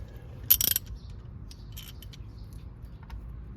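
A ratchet on a 14 mm socket working on a Chrysler's front brakes, a quick burst of metallic clicking near the start followed by a few faint scattered ticks and handling noises.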